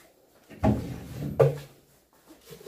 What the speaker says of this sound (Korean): 이런 서랍장 이렇게 열고 닫아잖아요